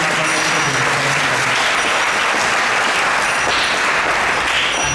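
An audience at an ISKCON Toronto talk claps in warm welcome for a speaker, a dense, steady round of applause that carries on evenly throughout with no voices over it.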